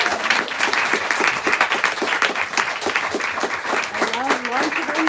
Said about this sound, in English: can we just give Megan one more round of applause?